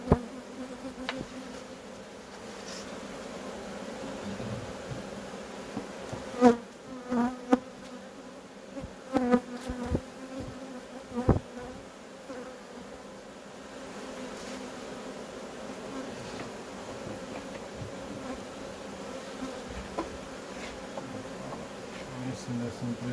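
Honeybees buzz steadily around an AŽ beehive, a constant droning hum with scattered wooden knocks and clatter from work on the frames, and a voice speaking occasionally over it.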